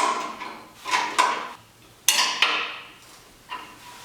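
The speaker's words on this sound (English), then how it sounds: "Yeah, we're getting tight on the lock washer there." A 13mm wrench tightening a lock washer on a Bronco bull bar, giving a series of sharp metallic clicks and clanks at irregular intervals, close and distinct.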